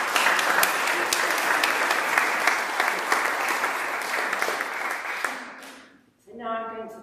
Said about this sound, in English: So perhaps you'd join me in giving all these very clever people a round of applause.